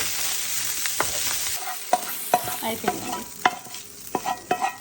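Rice with ginger and garlic fries in a pan while a spatula stirs it, making soft sizzling and repeated scraping strokes in an uneven rhythm up close, with a brief spoken word near the start.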